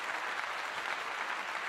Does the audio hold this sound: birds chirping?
no